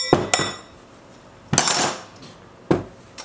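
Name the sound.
Yamaha WR450F clutch basket being popped off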